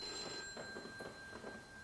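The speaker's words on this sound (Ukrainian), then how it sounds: "Наступного дня задзвонив телефон." A telephone rings in a quiet room, a steady electronic ring tone repeating through the short moment with no voices over it.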